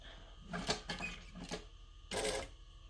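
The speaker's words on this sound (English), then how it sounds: "So we're going to stitch and we're going to back stitch." Home sewing machine stitching forward and then back stitching through a garment facing held on the fold, in short rattling bursts separated by brief pauses.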